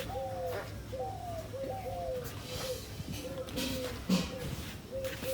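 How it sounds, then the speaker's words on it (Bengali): A dove coos repeatedly in soft, evenly spaced calls, close by and moderately loud over faint outdoor background, with occasional voices. "পাখি কি সুন্দর ডাক দেখছ"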